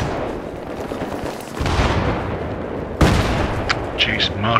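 Mortar and gunfire in Battlefield 3 on the Seine Crossing map, with steady rumbling battle noise that jumps into a sharp loud blast about two-thirds through, followed by scattered reports and a voice talking over it.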